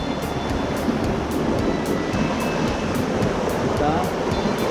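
Steady broadband rush of a flowing jungle stream (quebrada) at Chazuta Yaku in Peru's San Martín rainforest, close and continuous for the whole stretch, with no talk over it.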